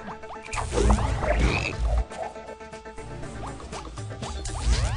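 Frog croaks from BattleBlock Theater, loud and repeated in bursts over busy game music and effects, with no talking.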